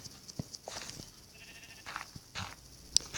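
Several faint Minecraft sheep bleats scattered across the clip, with light clicks and a brief sharp tone near the end, somewhat distant and quiet.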